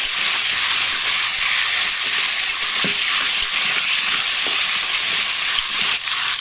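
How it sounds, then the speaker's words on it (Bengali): Diced potatoes sizzle steadily in hot oil in a pan, a dense continuous frying hiss with occasional soft scrapes and clinks of stirring, close and fairly loud, with no voices. "ভালো করে নেড়ে ফেলে দেবো আলুটা লাল লাল করে ভাজতে হবে"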